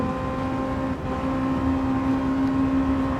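A steady, droning car engine hum from a racing game, a Toyota GT86 or Honda Integra Type R DC2, holding an even pitch throughout without speech.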